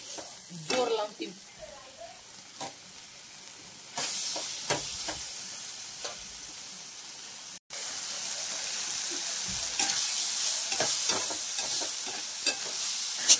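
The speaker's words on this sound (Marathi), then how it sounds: "त्याच्यामध्ये टमाटे भाजताना 2 ते 4 हिरव्या मिरच्या आणि थोडीशी कोथिंबीर आणि आलंही टाकलेलं आहे।" Tomatoes roasting in a pan with green chillies, coriander and ginger for spicy Kolhapuri misal, a soft steady sizzle broken by scraping stir sounds, with a louder hiss in the later part.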